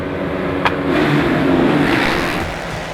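A pack of motocross bikes roars off the starting gate at Freestone, Texas, engines revving hard together into a loud, sustained, slightly swelling drone with a brief sharp clack near the start.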